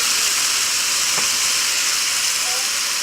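Apples sizzle in a pan for an apple roll with a loud, continuous steady hiss throughout.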